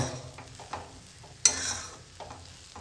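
Vegetable pulao rice stirred in a pan, soft close scraping and shuffling over a low sizzle, with one sharp clank of the spoon against the pan midway and no talking.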